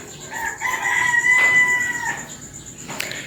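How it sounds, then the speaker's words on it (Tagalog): A rooster crows once, a long rising-and-holding call up close, with faint birdsong and a steady background hum. "Nanggigising na po ang mga manok."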